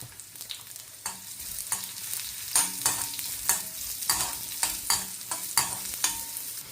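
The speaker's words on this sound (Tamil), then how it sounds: "இது நல்லா கோல்டன் ப்ரௌன் ஆகும் வரையும் வதக்குவேன்." Small onions sautéing in a pan for a Sri Lankan fried chilli coconut sambal, with repeated sharp scrapes of a spoon stirring through a steady close sizzle.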